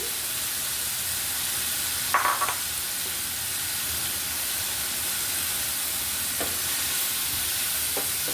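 Chicken balls and chicken sausage frying in a pan for noodles, giving a steady sizzle throughout with a brief louder crackling burst near the start and a few small pops later; no one speaks.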